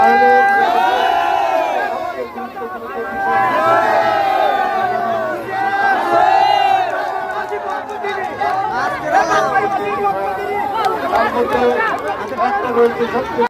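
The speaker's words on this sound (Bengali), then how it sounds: "এই যে বুনো উল্লাস দেখতে পাচ্ছেন" Fans celebrating a champion team shout and whoop in a loud, excited crowd, with repeated rising cheers and overlapping voices over a steady chatter.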